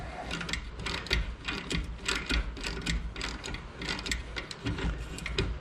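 A ratchet loosening a bolt on a 2022 Harley-Davidson Street Glide Special, giving rapid, continuous clicking pawl bursts in an uneven rhythm, close and fairly quiet, with no talk.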